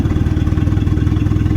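A 2.0 Honda Civic engine is floored but struggles, giving a loud, steady, low rumbling drone with rapid pulsing and no clear climb in pitch, close and alone.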